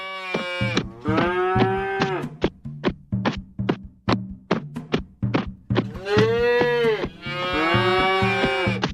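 Several cows moo repeatedly, long low calls overlapping one another, with hollow knocking thumps between them, close and loud.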